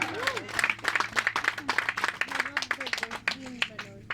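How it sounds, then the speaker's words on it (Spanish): A church congregation claps as an offering of praise, with individual claps audible under a voice and other voices talking over the applause. "Alguien le da una ofrenda de palmas a Cristo Jesús que está en este lugar"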